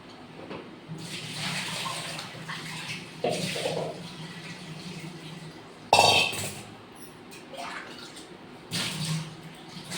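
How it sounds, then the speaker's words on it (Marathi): Water splashes and pours in a kitchen as soaked soybean chunks are drained, with intermittent sloshing bursts over a low background hum. "याला आता याच्यातून थोडंसं असं पाणी काढून टाकूया, फिरून टाकूया"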